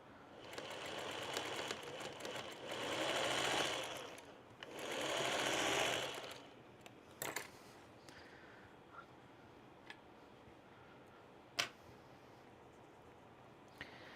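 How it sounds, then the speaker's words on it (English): Sewing machine stitching a seam on a quilt panel, a faint whirring run in two longer bursts, then stopping, followed by a few quiet clicks and taps. "please stitch this seam for me"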